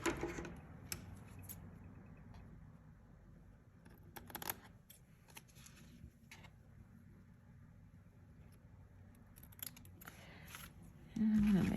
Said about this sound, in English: And now I'm gonna trim my lace.